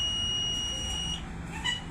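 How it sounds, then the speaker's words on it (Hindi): An inverter's buzzer sounds while its enter key is held, giving a steady high-pitched electronic tone that continues for just over a second and then stops, over a constant background hum. "लंबी बजर आई छोड़ देना।"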